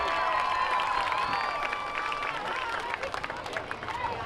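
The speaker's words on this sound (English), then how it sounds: "Big round of applause for your Haven High School Wildcat cheerleaders." Crowd at a high school football game applauding the Haven High School Wildcat cheerleaders, dense clapping and cheering that starts loud and gradually thins out.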